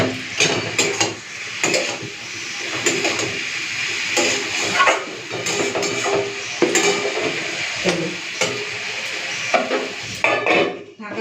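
A hilsa fish head goes into an ash gourd curry in a pan, with a close, busy run of metal utensil knocks, scraping and clatter over a soft sizzle throughout.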